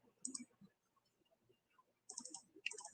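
A computer mouse is clicked during photo editing, with a few quiet, crisp clicks in short clusters, close and faint, separated by near silence.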